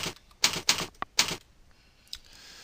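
Several sharp key presses on a computer keyboard, a quick cluster of loud clacks followed by a softer single tap, close and clear with no talking.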